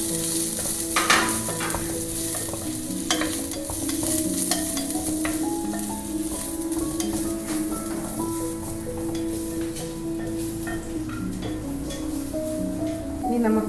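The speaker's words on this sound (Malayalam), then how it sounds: "പാലക്കിട്ടൊന്ന് ജസ്റ്റ് ഒന്ന് വഴറ്റിയിട്ട് ക്യാപ്സിക്കം കൂടെ ഇടാം" Steady, busy sizzling of palak and capsicum sautéing in a pan, with continuous crackle and occasional stirring scrapes throughout.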